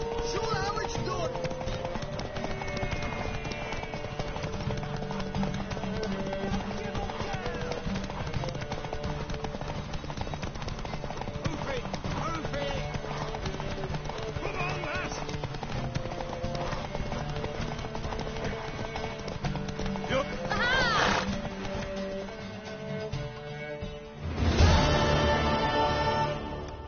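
Horse hooves galloping in The Witcher 3: Wild Hunt, a continuous rapid clip-clop under game music and character dialogue, with a louder burst near the end.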